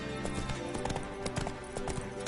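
Roach the horse from a video game, clip-clopping hooves in a steady galloping rhythm, fairly close and continuous for a couple of seconds with faint game ambience.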